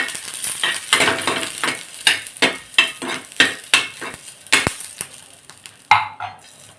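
Green chillies roast in a little oil in a pan, giving a loud close sizzle broken by a steady rhythm of stirring scrapes, about one stroke each half second, with no voices.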